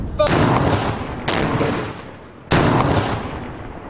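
Test blasts from bombs made of plastic explosive boom out in a series of three sharp, loud explosions, each with a rolling decay, spaced about a second apart.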